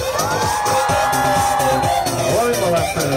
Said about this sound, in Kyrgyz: катуу кол чаап кыйкырып койгулачы кана